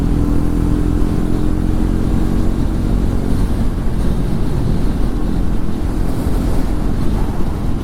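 A Triumph Tracker 400 motorcycle ridden at high revs, its engine drone buried under steady, loud wind buffeting on the microphone, with no talking.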